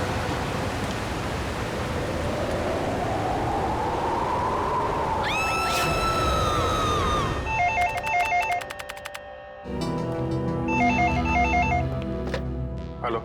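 A telephone rings at an office bureau. Its repeated electronic trills come in bursts after a rising hiss of noise, loud and close with no voices.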